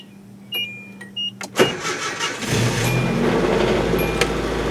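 An old Nissan pickup truck engine starts after a few clicks and a chime, catching with a burst and settling into a steady close idle rumble.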